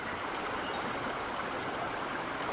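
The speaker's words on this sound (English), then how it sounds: "This is Little Salmon Creek. It is an arm of Salmon Creek." Little Salmon Creek in Southwest Washington flows in a steady, broad rush of water, close and unbroken throughout, with no voices.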